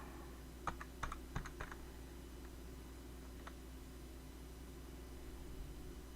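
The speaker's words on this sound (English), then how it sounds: "Typing it in the wrong spot." Typing on a computer keyboard, a quick cluster of sharp key clicks early on, then a lone tap, faint and close over a steady low hum.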